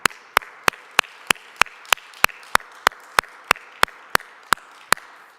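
A church congregation at a Sunday worship service claps in unison, with sharp, evenly spaced claps sounding at a brisk, steady beat over a quiet background.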